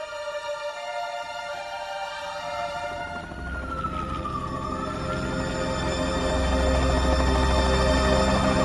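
Ambulance and fire engine sirens wail in a slow rising and falling tone over a low rumbling roar that builds steadily louder, as if vehicles are approaching.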